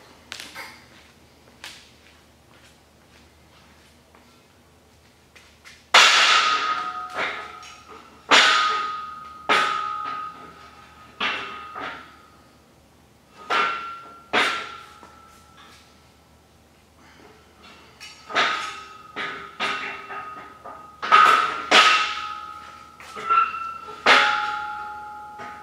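Metal safety pins on a squat rack are pulled and slid into new holes, giving a series of sharp, ringing metallic clanks and knocks spread irregularly over time, loud and close.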